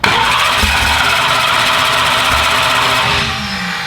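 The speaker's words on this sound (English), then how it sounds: "if it fires up, just shut it off pretty much immediately." An engine being started for the first time catches and runs loud and close, a rough, steady roar with knocking that holds for several seconds before easing slightly near the end.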